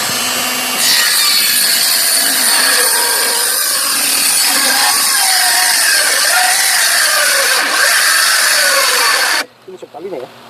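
A handheld circular saw rips through solid wood for a bed frame, a loud sustained whine with the blade straining through the cut for about nine seconds before stopping abruptly, followed by brief quiet shuffling.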